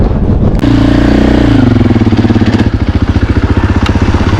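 A 2024 Husqvarna FE450 dirt bike engine revs up close, a loud steady single-cylinder drone that shifts pitch and settles into a rapid throbbing pulse while riding.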